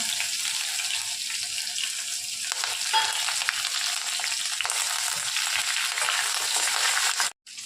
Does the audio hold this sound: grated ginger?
yes